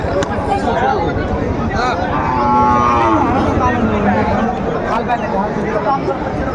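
A Sahiwal bull gives a long, low moo amid a noisy crowd of people talking nearby at a cattle market in Dinajpur.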